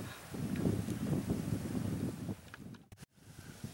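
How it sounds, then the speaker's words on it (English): Wind blowing across a bayside campsite on Panther Bay, a steady close buffeting rush against the microphone that drops out briefly near the end. "I got half of my fly put up, mostly just to block some of this wind."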